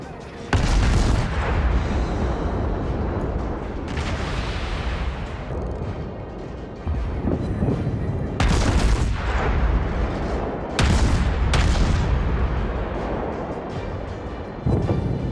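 Warship guns boom repeatedly in the naval battle game World of Warships, heavy loud salvos in bursts of two or three with rumbling decay between them, near and dominant with no talk.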